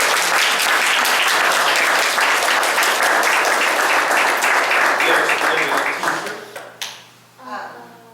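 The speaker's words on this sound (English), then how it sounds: "So give all your parents and everybody a round of applause." Loud, dense applause from a township committee meeting audience rolls on steadily, then thins into scattered claps and fades out, with a few voices briefly audible at the end.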